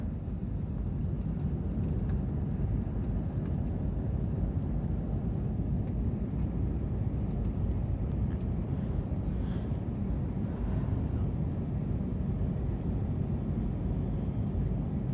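A loud, steady engine roar fills the whole stretch, a continuous dense drone of an airplane powering up on the runway for takeoff, with no talk over it.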